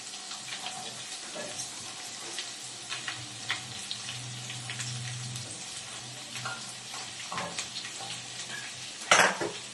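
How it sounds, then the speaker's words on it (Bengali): Chopped garlic frying in hot oil for chilli chicken, a steady low sizzle with scattered clinks of utensils and a sharper clatter near the end, no talking. "এবার আমি এই গরম তেলের মধ্যে একটু রসুন দেবো।"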